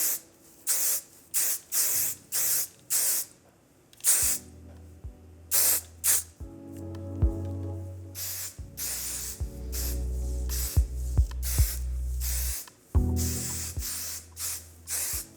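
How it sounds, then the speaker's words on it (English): Short repeated bursts of aerosol hairspray hiss in quick succession, close and loud, with music playing underneath. "I'll finish it off with a little bit of hairspray."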